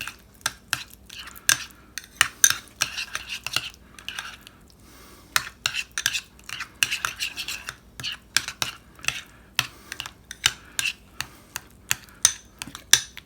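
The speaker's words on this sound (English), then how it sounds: "And then we mix this together, and you kind of have to mush it down to break apart those yolks" Deviled egg yolks being mixed and mashed in a bowl, a steady run of close, quick scraping and tapping strokes with a brief pause partway through.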